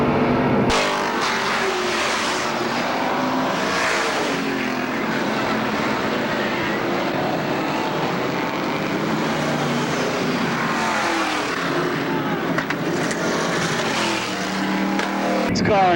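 Stock cars race around the Porterville oval at a Veterans Day Classic event, a dense continuous engine roar from several cars passing close and loud, with a race announcer talking over it throughout.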